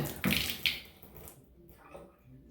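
Water gushes briefly from household plumbing lines as a tap is opened with the supply shut off, a close rushing burst that quickly fades to a trickle and then near silence.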